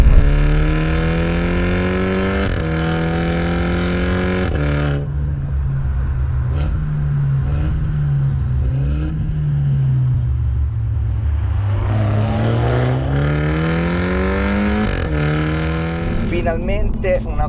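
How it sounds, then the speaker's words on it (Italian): A Toyota GR Supra 2.0 Turbo engine revs loudly up through the gears in third or fourth, rising pitch sweeps repeating as it accelerates, with a voice talking over the engine at moments. "anche in terza o quarta marcia dai un po' di gas e viene su"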